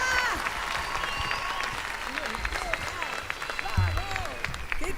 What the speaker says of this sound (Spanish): Fuerte el aplauso, Gerardo Cobas.